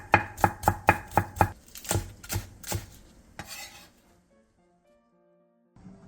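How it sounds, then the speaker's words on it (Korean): A knife slices half an onion and a Korean green onion on a cutting board for a side dish: a quick run of about six even, sharp chops, then a few looser strokes, before falling silent. "양파 2분의 1개를 채 썰고 대파 3분의 2개는 짧게 어슷썰게 해주세요."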